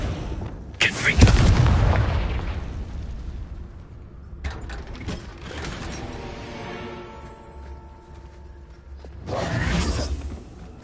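A Confringo fire spell in Hogwarts Legacy bursts with loud booming explosions, one large blast early, a crackling rumble in the middle and another heavy burst near the end, under a game voice calling out spells.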